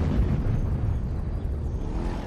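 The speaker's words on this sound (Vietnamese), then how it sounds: "Nổ ở đâu vậy cả?" An explosion sound effect from a Vietnamese television drama: a loud, deep rumbling boom that rolls on steadily without clear separate blasts or any speech.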